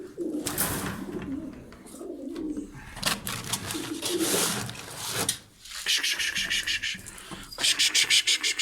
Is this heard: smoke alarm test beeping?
no